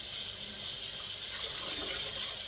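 Tap water runs steadily into a sink as collard greens are washed for the third time, a continuous close rushing splash with no talk.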